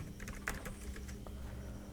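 A computer keyboard being typed on gives a short run of quick, close key clicks, with no one talking.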